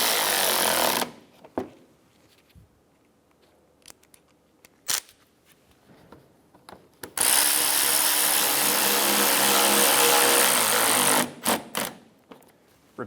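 A power tool drives front fender liner screws on a 2012-2020 Chevrolet Sonic, two loud, close sustained whirring bursts, one at the start and one longer later, separated by quiet stretches with scattered clicks and knocks.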